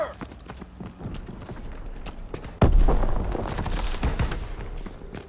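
Heavy gunfire in a video game erupts in a dense burst of shots, loud and close, with clattering mechanical noise around it.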